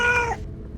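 A single cat gives one short, clear meow close by, then there is a brief quiet tail.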